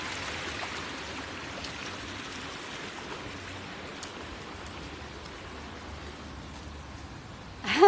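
A river flows in a park in a constant, even wash of water, fairly close and steady, with a sudden loud knock at the very end.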